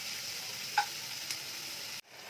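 Onions frying in a pan, a faint, steady sizzling hiss with a couple of soft clicks before it cuts off near the end; no talk.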